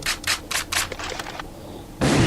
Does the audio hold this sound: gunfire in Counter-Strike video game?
yes